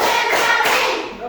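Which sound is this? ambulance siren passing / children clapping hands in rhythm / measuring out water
children clapping hands in rhythm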